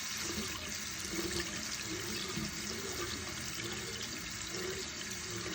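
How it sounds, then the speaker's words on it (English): Jarred white beans are drained and rinsed under a kitchen tap, with water rushing and splashing steadily into a sink, close and continuous. "open a jar of white beans. Drain. Rinse."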